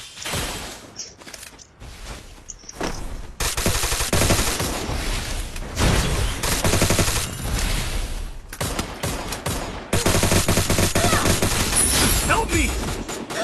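Rapid bursts of gunfire fill a video game battle, loud and dense for most of the stretch, with brief gaps early on; players talk excitedly over the shooting.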